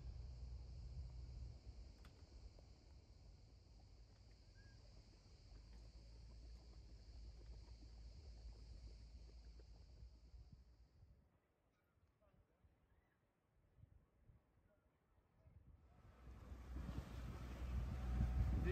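A boat leaving Panormitis harbour on Symi, Greece, in light wind and swell, with a faint low engine rumble and wind buffeting the microphone, easing off for a few seconds before swelling louder at the end.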